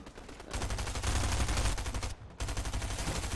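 Rapid gunfire from a Fortnite match, dense bursts of shots rattling almost continuously, loud and close, with one brief pause before the firing resumes.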